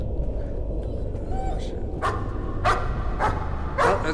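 Puppies bark in the horror video game Layers of Fear: several sharp yips and barks at intervals over a low droning background, with a man briefly swearing early on.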